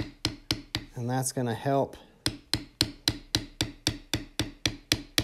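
A leather beveler is struck with a mallet while tooling a belt, giving sharp, close taps in a steady rhythm about twice a second, with someone talking briefly over the start.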